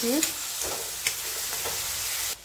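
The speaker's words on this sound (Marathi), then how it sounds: "यामध्ये हरभरे व्यवस्थित परतून घ्यायचं." Chickpea greens being sautéed and stirred in a pan for harbhara bhaji, with a steady close sizzle broken by a few soft scrapes of the spoon.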